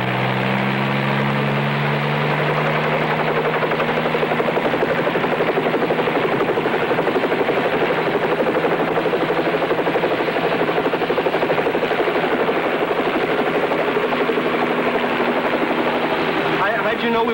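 A helicopter engine and rotor drone loudly and steadily throughout, with a low hum underneath, while voices talk over it.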